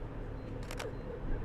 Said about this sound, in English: I heard the shutter